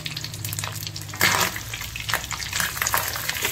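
Fish roe frying in a little oil, a close, dense sizzle that swells suddenly and keeps crackling with bursts of spitting, without any talk.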